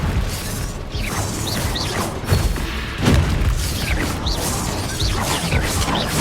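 A Bombarda spell explodes in the Hogwarts Legacy video game, with a loud, dense booming blast and crackling debris amid steady game combat noise, with a sharp peak partway through.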